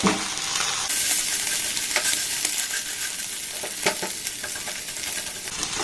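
Egg sizzles loudly in a hot pan while being stirred and broken into crumbly bits, the steady frying hiss punctuated by repeated scraping and tapping strokes.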